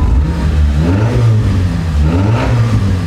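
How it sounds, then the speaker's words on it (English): A car engine revs loudly with no muffling, a raw, rumbling roar that rises and falls steadily throughout. "we're gonna fire up the car with no exhaust"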